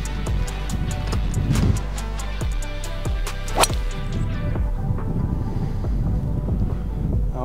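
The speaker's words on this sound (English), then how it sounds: "Oh, wind." Wind blows across the Pinehurst golf course and buffets the microphone, a steady, loud, close rumble with scattered sharp crackles that thins out after a few seconds.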